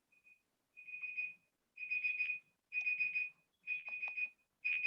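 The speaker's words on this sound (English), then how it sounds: "Someone's alarm is going off." Alarm beeping during an online meeting, steady high-pitched tones in five repeating bursts with short gaps, fairly clear and alone with no talk.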